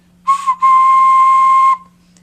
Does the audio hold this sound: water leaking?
no